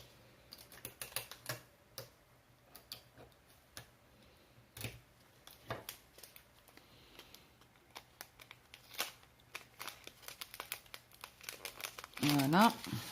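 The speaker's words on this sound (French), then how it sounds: "je vais mettre un petit bout de scotch" Scattered crinkly handling sounds and small adhesive tape noises while preparing diamond painting canvases, with a sharp ripping tear near the end; quiet, close, no talking.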